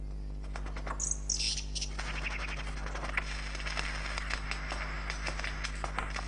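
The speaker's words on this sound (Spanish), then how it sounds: "Estas llamadas de clan han pasado de una generación de aves lira a otra." Lyrebird clan calls in a rainforest, a few bright sharp whistled notes near the start over a constant insect and cricket drone, with scattered faint chirps after, fairly distant and quiet.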